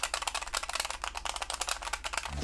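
Sharp clicking from the triggers of a GameMT E6 Plus handheld game console, pressed in a fast, uneven run of close, dry plastic clicks with no talk.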